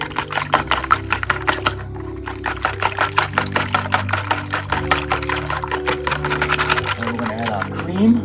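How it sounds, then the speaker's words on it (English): Eggs, six of them, whisked together in a bowl with a rapid steady clatter of the whisk, close and fairly loud, running continuously under background music. "we're going to whisk them together"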